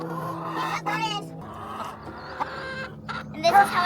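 Backyard chickens, part of a flock of 150 raised in Arizona, cluck and squawk up close in several short bursts, with a voice and other talk mixed in.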